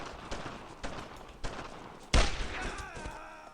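Rifle and machine-gun fire in the World War II shooter Brothers in Arms: Road to Hill 30, a series of loud shots at irregular intervals with a heavy close burst near the end, and faint voices underneath.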